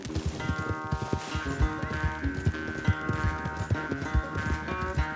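Horse hooves clip-clop at a quick, uneven gait in the game Red Dead Redemption 2, close and clear over a faint tonal background hum, with no voices.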